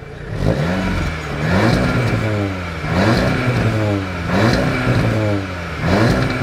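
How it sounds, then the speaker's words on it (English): Exhaust of a 2017 Audi S3 Sportback Quattro Black Edition revving repeatedly while parked, five rising and falling blips in an even rhythm, loud and close, with no talk. "Let's hear this exhaust."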